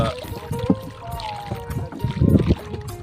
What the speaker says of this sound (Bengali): আমরা আট দশজন নৌকায় নৌকা চালিয়ে